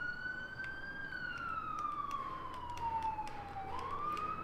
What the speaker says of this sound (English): Sorry about the siren. I live in the city.